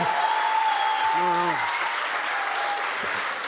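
Studio audience applause on a live talk show, a dense steady wash of clapping filling the whole stretch, loud and continuous, with a brief voice and a tonal line showing through.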